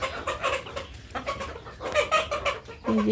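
Laying desi hens cluck repeatedly at close range on a poultry farm, with overlapping short calls and busy flock chatter throughout.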